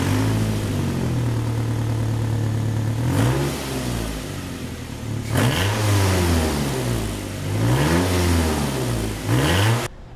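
A car engine rumbles through its exhaust with a new ceramic catalytic converter, idling low then revving up several times in rising and falling surges, fairly close.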